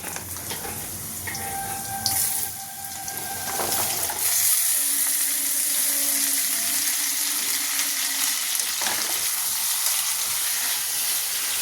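Thin-cut potato sticks dropped into hot oil in a pan for a mushroom curry, a bright steady sizzle that swells after a few seconds and keeps hissing, with no talking.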